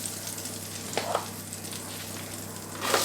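Food frying in flavoured oil is stirred in a pan while cooking beef tomahawk and cannellini beans, with a steady close sizzle and a few soft scraping stirs.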